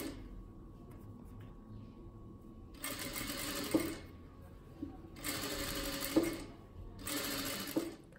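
A sewing machine stitches a child's dress in three separate runs of rapid whirring, each a second or two long, with quiet pauses between them and faint room noise in the background.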